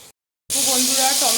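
Chopped green chilli and tomato hiss and sizzle steadily in a hot pan after a brief silence, a close, bright frying sound.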